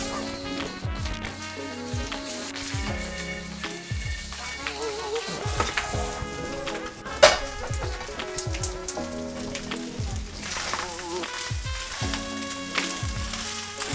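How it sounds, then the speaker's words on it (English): Frozen peas hit sizzling crispy bacon fried rice in a cast iron pan, giving a continuous crackling fry with dense pops and spatter, and louder bursts as food is stirred, alongside background music. "So I'm adding frozen peas here, and then I'm just going to let these sort of combine."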